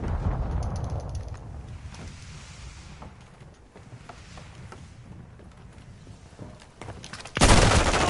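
Sniper gunfire in a video game: a fusillade of distant shots under background game noise, with a louder burst at the end.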